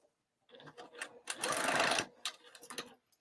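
A sewing machine stitches through a cross-body bag's lining fabric, a quick burst of rapid mechanical whirring between softer bumps of handling, close and fairly quiet.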